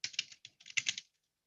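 Rapid bursts of keystrokes on a computer keyboard while a password is entered, a quick run of close, crisp clicks in two clusters, then silence.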